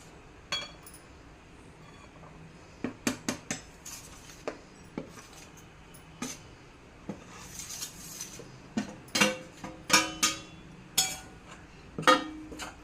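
A spoon striking and scraping a metal kadhai while making besan laddoo with ghee, giving sharp irregular clinks and taps that grow more frequent toward the end, close and clear with no talk.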